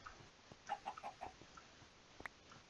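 Several chickens in a video game mob farm give short, quiet clucks in a quick cluster, then one more isolated cluck, against faint background hiss.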